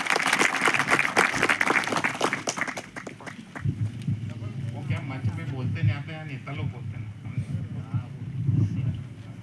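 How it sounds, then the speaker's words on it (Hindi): Audience applause for the guests at a seminar on Gondwana culture, a broad wash of clapping running throughout the clip, mixed with crowd noise and some voices. "एक बार सारे अतिथि को ले एक बार तालियां बजा लीजिए।"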